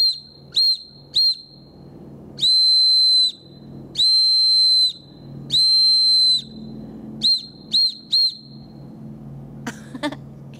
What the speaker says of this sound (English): Another way is to use the SOS, which is three short, three long, three short